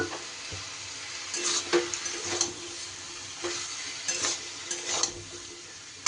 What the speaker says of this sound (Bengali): এবার সব কিছু একটু ভালো করে নেড়ে নেব। তার আগে খুব সামান্য পরিমাণ একটু জল দিয়ে দিলাম